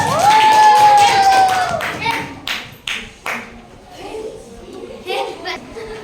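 Sixth-grade children in a classroom clap after a science lesson, with a whistle-like tone at the start, then scattered bursts of clapping and taps that fade in and out amid children's voices.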